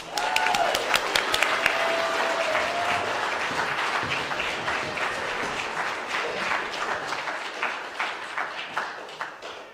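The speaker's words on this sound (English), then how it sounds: "the congregation gives heartfelt applause" A church congregation applauding, a dense round of clapping that starts loud, with a faint tone near the start, and thins into scattered individual claps toward the end.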